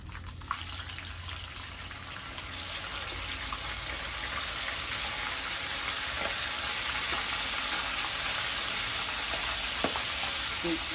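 Pork sizzles and spits in hot oil in a pan, a steady, fairly loud broadband frying hiss lasting the whole stretch with a few sharper pops, and no talk over it.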